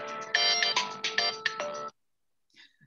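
A phone ringtone plays a bright, repeating electronic melody of short tonal notes for nearly two seconds, then cuts off into silence, followed by a faint brief sound.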